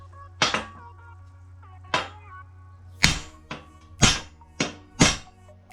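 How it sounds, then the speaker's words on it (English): A hammer drives a shaft into a Nissan FS5W71 transmission in a series of sharp metal blows, about seven irregularly spaced hits ringing briefly against a quiet low hum. "I hammer it. And as I hammer, I'm just making sure that we're still splining."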